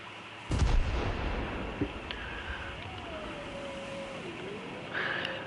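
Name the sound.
bomb exploding in the video game War Thunder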